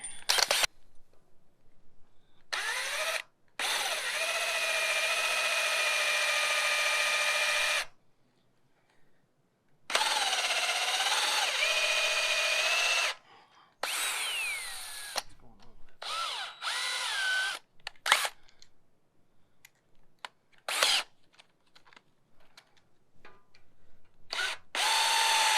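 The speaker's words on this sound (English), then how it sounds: "we're just going to have to use the flange as a guide to drill that out." A power drill whines in repeated bursts into a metal flange on an early Ford chassis, some long and steady, others short stop-start pulses, close and loud with silent gaps between.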